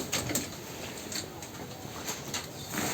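Pigeons in a darkened home loft at dusk give soft, low cooing calls in repeated murmurs, with occasional brief flutters and scuffles, all heard fairly close but quiet.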